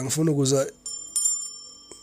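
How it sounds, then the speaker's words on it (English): A hand bell rings once after a voice, a bright metallic tone that lingers and fades, followed by a softer second strike. "where's my bell?"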